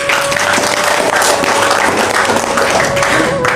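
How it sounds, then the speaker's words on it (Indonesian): Applause from a gathering of participants at a Sufi study session in Indonesia fills the space as a steady, dense wash of clapping, loud and sustained throughout with a faint tone beneath. "Tepuk tangan."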